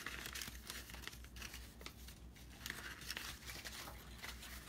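Paper being folded into a corner bookmark, soft close crinkling and rustling in irregular bursts, quiet and continuous without voices.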